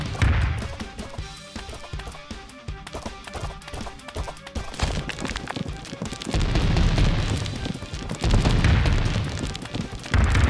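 Bomb explosions in the game Bounty of One come as repeated booming thumps amid busy game effects and music, growing heavier and louder toward the end.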